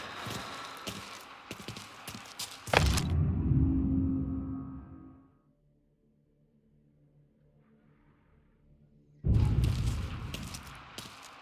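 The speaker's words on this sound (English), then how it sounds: "If this storm don't blow through, I think I'm just gonna sleep here tonight." Thunder rumbles from a storm in the Mafia Definitive Edition video game, a loud, deep roll that swells, fades into near silence, then returns as another loud rumble near the end.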